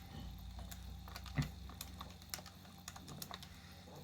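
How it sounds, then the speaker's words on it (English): Quiet, close keypresses on a calculator as numbers are entered, a quick irregular run of light clicks with one firmer tap, no voices. "so I'll type into my calculator."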